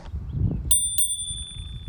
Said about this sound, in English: there's even a nice little bell on the handlebar right in front of the brake